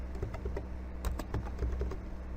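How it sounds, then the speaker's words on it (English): A password being entered on a computer keyboard at a login screen: a quick run of close, crisp key clicks in uneven bursts over a low steady hum, with no talking. "he enters his own password"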